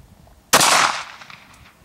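A single loud, close gunshot from a .380 pistol firing Sierra 90-grain bullets cracks sharply out of near silence, its bright blast decaying over about half a second with faint echoes trailing after.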